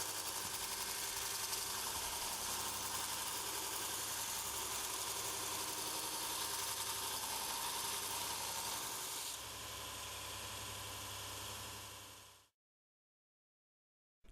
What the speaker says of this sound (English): using the V-block, sharpen the tool until all the flat surface has gone